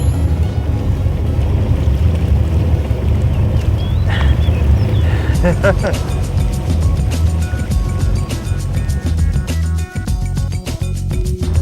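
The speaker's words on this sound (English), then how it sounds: "This is one of the ferries that goes across the river" A river ferry engine in Bangkok drones steadily with water churning and wind noise, loud and close, with rapid mechanical ticking joining partway through.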